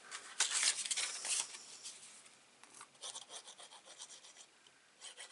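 A tool rubbed along paper scorelines while making a mini album, faint dry scraping strokes in short bursts, with a couple of stronger passes early on and lighter, quicker rubs after.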